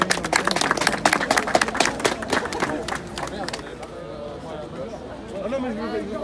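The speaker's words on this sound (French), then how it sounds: "On applaudit." Crowd clapping at an outdoor rally of coach operators in front of a ministry at Bercy, Paris, with bursts of claps in the first seconds, mixed with chatter and voices, then fading to murmuring talk.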